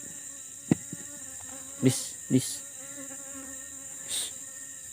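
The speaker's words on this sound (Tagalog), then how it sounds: "may bubuyog" A bee buzzes steadily nearby throughout in a cemetery, with a few soft knocks and brief bursts of close movement; a voice speaks briefly.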